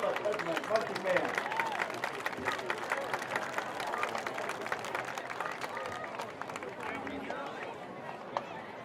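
Crowd applause and scattered cheering in the stands at a high school homecoming football game, saluting the marching band, a broad continuous wash of clapping heard from some distance, with chatter mixed in.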